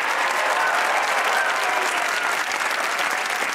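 A studio audience at a Pakistani TV comedy talk show applauds steadily and loudly, with dense, sustained clapping filling the space for several seconds and no talk over it.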